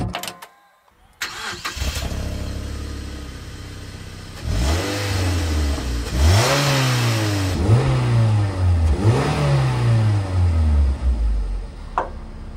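A Mazda MX-5 with a 1.8 litre four-cylinder engine starts and is revved in several sharp, rising bursts that fall back toward idle between blips, loud and close, with no speech.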